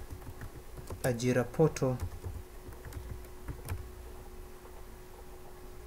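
Typing on a computer keyboard: a quick burst of close key clicks lasting about a second, then a few scattered taps, with someone speaking over it and a faint steady hum underneath.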